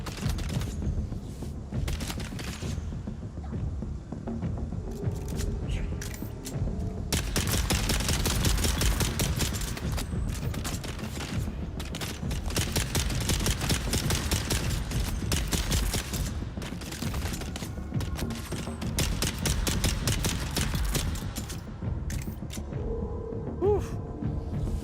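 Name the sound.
gunfire in a video game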